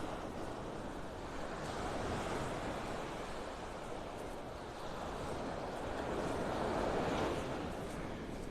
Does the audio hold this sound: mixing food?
no